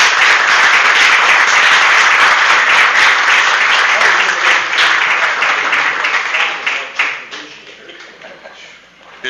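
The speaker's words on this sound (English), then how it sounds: "I think we should give the council a round of applause because they made this happen" Loud, sustained applause from a borough council meeting audience, a dense wash of many hands clapping that holds steady for several seconds before thinning into scattered claps and dying away.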